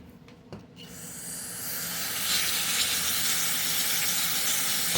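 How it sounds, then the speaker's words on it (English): Carb cleaner sprays in a steady, loud hiss onto the stuck recoil starter pawls of an Echo SRM-225 trimmer. A few small clicks come first, then the hiss builds and holds close to the microphone. "we're gonna blast this out with some carb cleaner"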